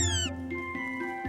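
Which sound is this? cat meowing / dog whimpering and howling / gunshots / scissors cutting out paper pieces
cat meowing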